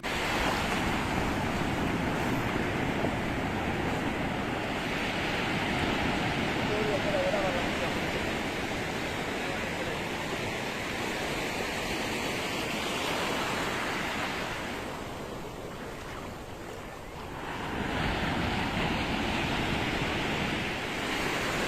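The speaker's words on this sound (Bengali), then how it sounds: "বিশাল ঢেউ।" Large sea waves breaking on the beach at Cox's Bazar where fishermen haul nets, a continuous heavy wash of surf that dips briefly and then swells back up, close and loud.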